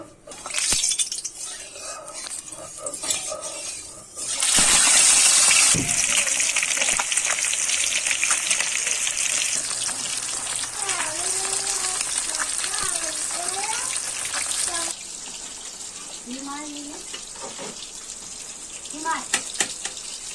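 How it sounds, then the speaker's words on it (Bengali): Oil hits a hot pan with a sudden loud hiss and gush, then settles into a steady crackling sizzle for frying turmeric-coated rohu fish, and someone talks over it in a home kitchen. "মাছ ভাজার জন্য দিয়ে দিলাম তেল।"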